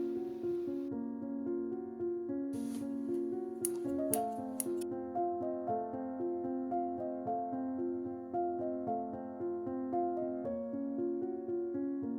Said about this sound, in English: I made the handles using a piece of a price tag, which I painted and cut into pieces.